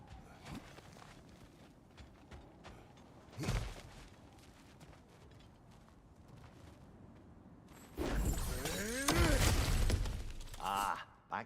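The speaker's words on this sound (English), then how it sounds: "back to smashing through things for fun and profit" Objects shatter and break apart as the player character smashes through obstacles in God of War Ragnarök, with a brief crash early on and then a loud, sustained burst of splintering debris over the last few seconds.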